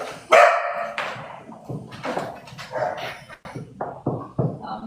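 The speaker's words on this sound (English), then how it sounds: "I walk outside and there's a pup there." A rescued puppy, a dumped pup with Demodex and almost no fur, lets out a sharp close bark followed by a run of smaller yips and whimpers, loud at first and then quieter and intermittent.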